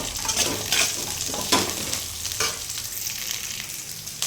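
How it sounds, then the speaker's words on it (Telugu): Green chilies and coconut frying in a pan for a coconut chutney, a dense steady sizzle with occasional utensil scrapes and stirring clinks, close and continuous with no talking. "ఇదిగోండి పచ్చిమిరకాయలు ఫ్రై అయిపోయాయి. కొబ్బరి కూడా ఫ్రై అయింది"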